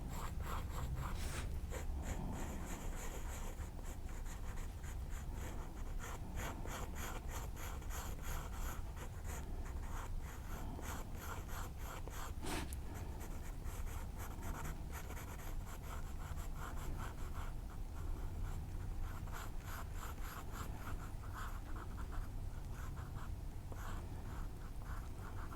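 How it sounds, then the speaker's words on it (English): Pencil sketching a standing leg on paper, a long, close stretch of continuous scratchy strokes with steady rhythmic texture and a few sharper taps, no talking. "let's say that I'm drawing a standing leg"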